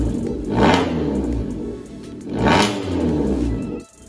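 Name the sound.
Maruti Swift VXI with Valvetronic exhaust switched on, revving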